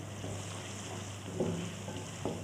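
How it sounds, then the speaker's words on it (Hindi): Tomatoes and green chillies frying in a pan with onion and garlic, giving a faint, steady sizzle with a few soft stirring scrapes and no voices. "और काफ़ी हद तक भून चुके हैं टमाटर भी।"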